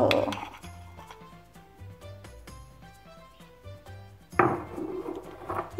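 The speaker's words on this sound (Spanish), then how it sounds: "Y esto, por supuesto, lo voy a revolver porque si no, no voy a tener café con leche." Dalgona coffee foam being stirred into hot milk in a cup, a spoon clinking and scraping against the sides in a quick irregular rhythm, close and clear, with a louder clatter near the end.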